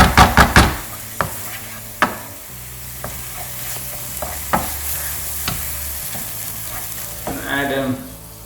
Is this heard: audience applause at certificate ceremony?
no